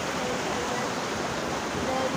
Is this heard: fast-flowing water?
yes